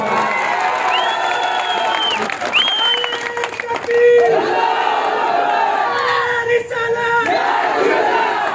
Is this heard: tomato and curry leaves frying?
no